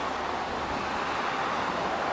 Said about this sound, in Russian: Вот, смотрите, какой ветер.